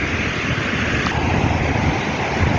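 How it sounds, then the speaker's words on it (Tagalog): Ocean surf at Big Wave Bay in Hong Kong, a steady loud wash of breaking waves mixed with wind rumble on the microphone, with no talk. "Ang ganda ng alon."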